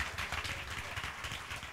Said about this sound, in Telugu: చప్పట్లు కొట్టి ప్రభుని గణపరుద్దామా.